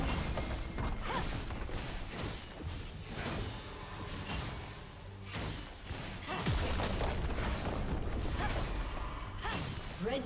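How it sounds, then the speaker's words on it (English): A turret explodes and crumbles in League of Legends during a top-lane Riven versus Tryndamere match, booming crashes layered in a loud, continuous battle mix. "Red team's turret has been destroyed."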